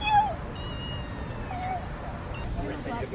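A cat gives a short, high meow near the start, then ambient chatter and voices carry on around it.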